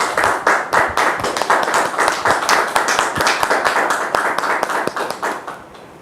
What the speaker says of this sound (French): On le reçoit avec nos applaudissements